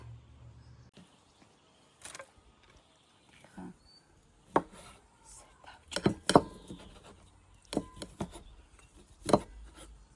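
Knife chopping food for homemade shawarma in a village kitchen: scattered close wooden knocks and rubbing scrapes, irregular and moderately loud, with some quiet speech around them.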